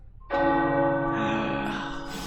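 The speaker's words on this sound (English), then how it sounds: "The tower bells are ringing." Tower bells ringing in the video game Midnight Suns, a loud, rich peal that strikes suddenly and sustains with a shimmering, resonant ring.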